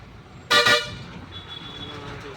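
Car horn blasts loudly once in a short double toot amid heavy road traffic during a crowded festival, followed by a steady murmur of engines and street noise.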